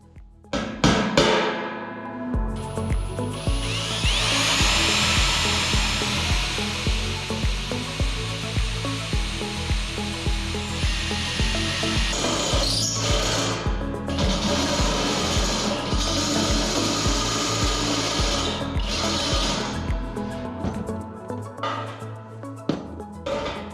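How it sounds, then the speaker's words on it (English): A power drill bores a 1/2 inch hole in a bulkhead while a DIY sap cooker is being built, making a steady, loud, continuous whine that runs for about twenty seconds with small shifts in pitch, close and alone. "So I need to drill, I think, a 1/2 inch."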